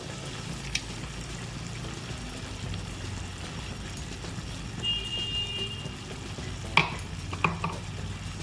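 Steady stirring and scraping of fried ridge gourd and poppy seed paste in a pan, with a soft sizzle underneath and a few sharp clinks near the end; no voices.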